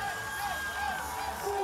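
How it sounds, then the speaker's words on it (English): A strongman competition crowd cheers on a competitor carrying the Husafell Stone, a brief, moderately loud swell of shouting and whooping with faint talk mixed in. "The crowd helping him along as well."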